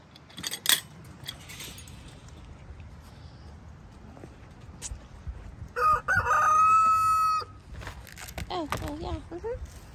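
Chickens and a rooster in breeding pens at a coop, with a loud nearby rooster crow and scattered clucking while a person talks over them during feeding.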